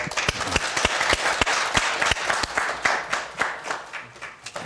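A small group claps at the close of an online ESG management forum, a sparse round of distinct hand claps with a steady, uneven rhythm, fairly close and moderately loud, no voices over it.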